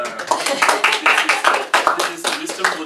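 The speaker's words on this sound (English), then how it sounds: "Please everybody clap for Jacinta." Audience clapping for the organizer Jacinta at a Buddhist gathering with a lama, a moderate scattered round of handclaps with some voices mixed in over about three seconds.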